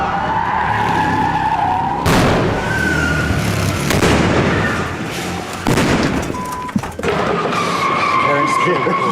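Tires skid and roar during a car chase shot filmed from a go-kart for Transformers, a loud, continuous engine-and-tire rush with several sharp surges and a brief drop near the end.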